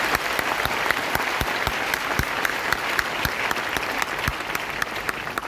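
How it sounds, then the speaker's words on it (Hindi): Audience at a network marketing seminar gives a big round of applause for the leaders, many hands clapping with a few sharp individual claps standing out, continuous and fairly loud. "तो एक बहुत बड़ी ताली होनी चाहिए आप सभी लीडर्स के लिए"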